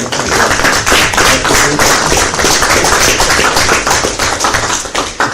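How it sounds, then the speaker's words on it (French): Applause at a municipal council meeting, a dense burst of many hands clapping close and loud, sustained evenly for several seconds before thinning slightly at the end, no speech. "moi je veux bien qu'on les applaudisse"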